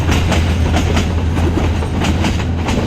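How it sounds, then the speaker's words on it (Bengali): A crowded passenger train runs past on a village railway track, close and loud: a heavy steady rumble with rhythmic clickety-clack of wheels over rail joints and no voices. "এই ট্রেনের রাস্তা দিয়ে এখন ট্রেন যাবে"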